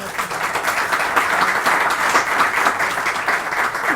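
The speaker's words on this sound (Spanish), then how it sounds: "Así que lo aplaudimos." Dense, steady applause from an audience at a tribute ceremony honoring Dr. Ignacio de Posadas fills the room evenly for the whole stretch, a continuous wash of many hands with no pauses and no speech.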